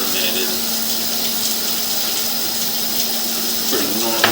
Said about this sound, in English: this is while the water's flowing